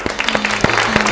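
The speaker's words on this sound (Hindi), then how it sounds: "तो एक बार मीना जी के लिए जोरदार तालियां" Short burst of audience applause for a contestant on a Hindi TV game show, a studio crowd clapping steadily and fairly loud, with a few sharp claps standing out.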